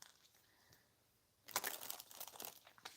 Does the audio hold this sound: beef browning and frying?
no